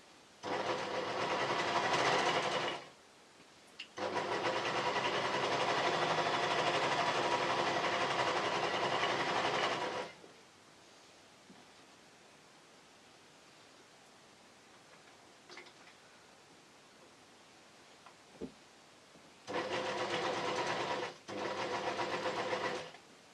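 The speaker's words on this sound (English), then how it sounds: "And I'm sewing on the wrong side, so it's all good." Serger overlocking seams on a T-shirt hoodie made from fabric blocks: loud, steady machine whirring in three long runs separated by pauses of near-quiet, with faint handling clicks in the gaps.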